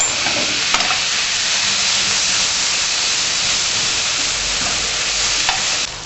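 Bamboo shoots stirred in a hot pan with sugar and rice vinegar, giving a steady, close sizzling hiss with faint scraping of the spoon throughout.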